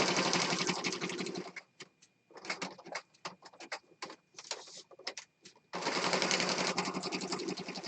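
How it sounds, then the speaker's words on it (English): A sewing machine stitches a mixed media piece, running in a steady whirring burst, then a stretch of separate, slower stitch taps, then another continuous run, close and alone without talk. "I want to do one more stitch and then rotate it this way."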